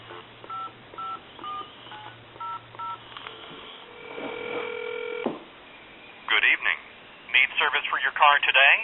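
A rapid run of touch-tone beeps, about nine short evenly spaced tones, on an AT&T 210 Trimline telephone, with a steady dial tone before and after, followed by a recorded voice answering a time-and-temperature line.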